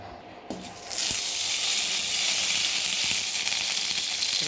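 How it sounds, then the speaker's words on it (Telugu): Cashews drop into melted ghee and fry. After a short quiet start, a sudden close hiss bursts up and holds steady and loud to the end, with a few faint clicks underneath. "గడ్డ నెయ్యి వేసుకొని కరిగిన తర్వాత జీడిపప్పు వేసుకొని ఎర్రగా వేయించుకొని"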